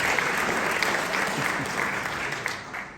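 Brief burst of audience applause at a film conversation event with an actor, dense steady clapping from a sizable crowd lasting a few seconds.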